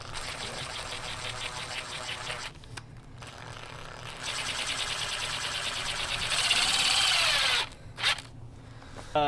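A power drill drives two screws into the rear tire of a Sur Ron X electric dirt bike fitted with a tubeless mountain-bike-style setup. The whine is close and loud, comes in sustained bursts with short pauses, and rises in pitch near the end.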